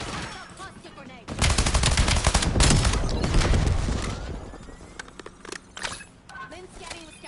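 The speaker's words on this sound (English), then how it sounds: "Cluster grenade." A rapid burst of cluster grenade detonations in a team shooter game, dense crackling blasts swelling loud for several seconds then thinning into scattered pops, with game voices talking over it.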